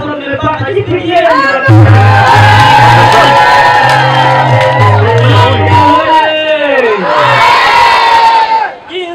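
Loud crowd cheering and shouting with voices rising and falling, plus a steady low rhythmic drumming, at a school teachers' housing inauguration in Nyombo secondary school, Tanzania, with talk mixed in throughout.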